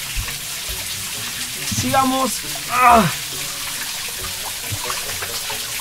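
Water flows steadily through a narrow, cramped passage inside an old stone mill, making a continuous hiss and rush while a man briefly calls out over it.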